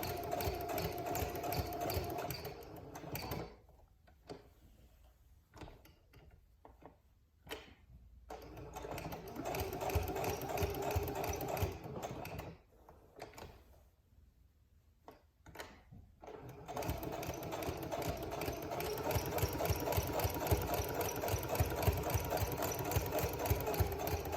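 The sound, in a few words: sewing machine stitching fabric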